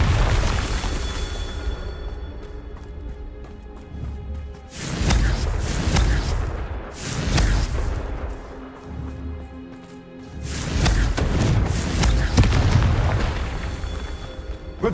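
Confringo fire-blast spells detonate in Hogwarts Legacy, two big booming bursts several seconds apart, each swelling into a broad rumbling roar before fading back to quieter game ambience.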